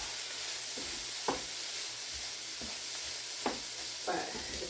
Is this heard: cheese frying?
yes